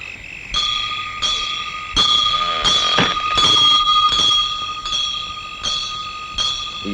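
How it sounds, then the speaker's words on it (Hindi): Bell rung repeatedly by hand, a bright metallic clang struck about every second with ringing tones that linger between strikes, fairly loud and close with no talk. "तुम दोनों घंटी बजाते रहना"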